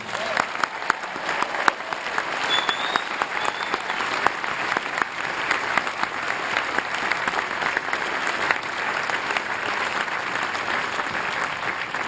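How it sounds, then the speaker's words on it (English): Sustained applause from a large graduation ceremony audience, a dense steady clatter of many hands clapping at once, continuing evenly without pause. "Let's have a big round of applause for the class of 2014."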